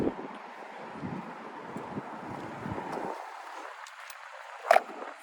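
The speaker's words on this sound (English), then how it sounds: "I swear this wind's just messing with me now because it knows I'm out here." Outdoors beside a 2017 Buick LaCrosse, wind buffets the microphone in low, uneven gusts with a brief louder bump near the end, quiet overall and without speech.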